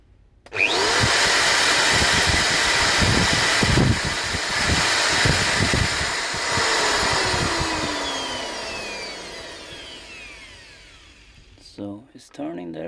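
A faulty Bosch Professional angle grinder whirs up sharply, runs with a loud rattling, buzzing motor noise and then winds down with a falling whine, followed by a brief voice near the end.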